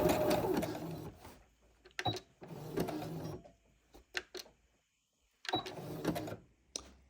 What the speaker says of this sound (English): I'm just going over this edge again with a slightly wider zigzag stitch